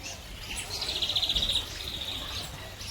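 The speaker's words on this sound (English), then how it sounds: "Yeah, they're finches, Bob." Small finches at a bird sanctuary pond area give a quick, high trilling chirp run that rises and fades within a second, over soft outdoor background hiss.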